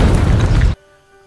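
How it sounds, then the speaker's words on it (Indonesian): A car bomb explosion: a loud, broadband roar for under a second, then an abrupt cut to a quiet low hum. "Pada awalnya Scott mengira bila ledakan itu hanya berasal dari teror mobil."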